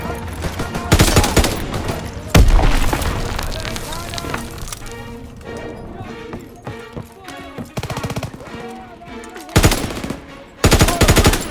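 Rapid machine-gun bursts and rifle fire in Call of Duty WWII, loud and continuous with sharp heavy volleys, while shouted voices call out over the battle.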